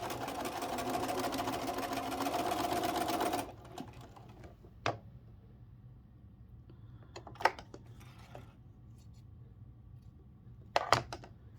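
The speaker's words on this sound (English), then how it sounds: "you're going to sew onto one side the 2 sets of star points that are put together." A sewing machine runs steadily for about three seconds while joining two sets of quilt star points onto a small cut square for a tiny Christmas tree quilt star, then stops, leaving quiet handling noises and a few sharp clicks.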